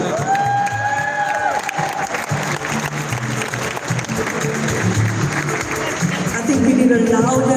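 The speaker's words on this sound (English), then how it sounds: "I think we need a louder round of applause for these guys" Crowd at the closing ceremony of the All Africa Cuesport championships claps for players, a dense, continuous wash of applause with scattered cheers, sustained throughout and swelling slightly louder toward the end, with tonal sounds and voices mixed in.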